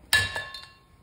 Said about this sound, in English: This is my little slide hammer tool. This is how I take my cam bearings out.